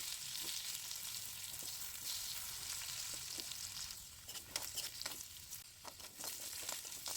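Diced potatoes coated with turmeric and salt frying in oil in a kadai, a soft steady sizzle with occasional stirring scrapes and patters later on, quiet and close, with no voices.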